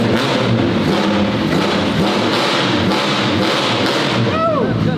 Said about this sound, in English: This is classic Nissan stuff, and he says just listen to it idle and how it is without even revving it.